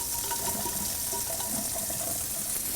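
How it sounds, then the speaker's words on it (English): Cold tap water runs steadily from a faucet over orzo pasta in a sink, a continuous close splashing rush that fills the whole moment without pause. "So run this through. Again, this is just cold tap water, it doesn't matter."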